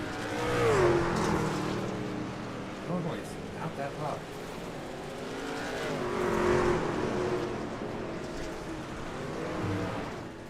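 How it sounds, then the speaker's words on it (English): A race car engine in a racing video game, at Knoxville, revs and whines through gear changes, rising and falling steadily, with a voice talking over it at times. "I got told that my engine sounds a little bit loud"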